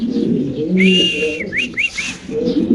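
Fancy pigeons kept for sale in Bangladesh, several soft low coos and a few higher whistling calls close by, continuous through the short stretch with no talk.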